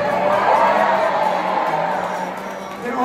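A concert crowd for the band Apo Hiking Society cheers and whoops loudly, a broad sustained roar that eases slightly toward the end.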